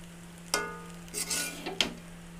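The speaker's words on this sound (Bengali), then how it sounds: "এই নাড়ছি" Fried rice is stirred in a wok with ghee: a few scraping, clattering strokes of a utensil against the pan over a steady hum, with a faint sizzle between the stirs.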